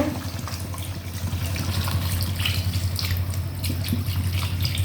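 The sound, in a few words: pouring water into chicken and potato curry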